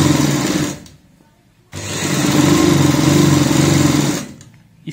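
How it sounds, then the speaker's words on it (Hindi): A sewing machine stitches a girl's party frock in two steady, whirring runs, close and loud, separated by a brief pause and ending with another quick stop. "इस तरीके से सिलाई लगाएंगे।"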